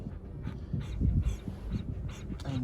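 A sick puppy, recently shaved and drained of fluid at the vet, panting quickly and whimpering softly in close, breathy bursts, alone without talk.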